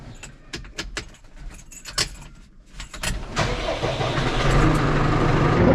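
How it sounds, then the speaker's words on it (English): Keys jangle and clatter for a few seconds, then a tractor engine cranks and roars to life, settling into a loud, steady rumble. "Start up the tractor and try to be lazy if I can."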